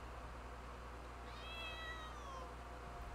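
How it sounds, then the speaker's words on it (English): Cat gives a single faint, drawn-out meow that rises and then falls, heard quietly over a steady low background hum, no talking. "Who's meowing at me?"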